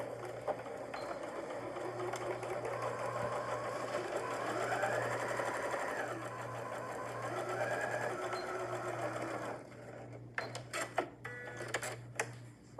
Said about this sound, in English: I'm gonna sew with a 1/4 inch seam allowance down each side.